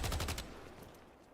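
Rapid bursts of gunfire from the Infernus hero in a video game, five or six quick shots packed into the first half-second, then a fading reverberant tail.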